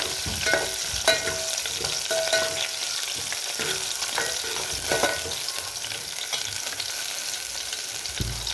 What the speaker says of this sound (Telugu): ఆనియన్స్ బ్రౌన్ కలర్ వచ్చే వరకు వేయించుకోవాలి